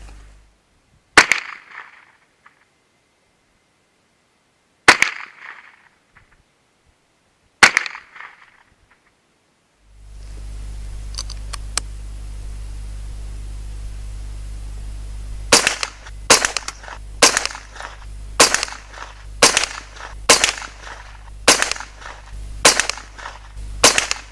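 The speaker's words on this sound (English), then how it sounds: "So let's take a few shots at 25 just to make sure that we're definitely on target." A Kriss Defiance DMK22C .22 LR rifle fires at a target 25 yards away: three spaced sharp cracks, then under a steady low hum a rapid string of about ten close, loud shots in quick rhythm.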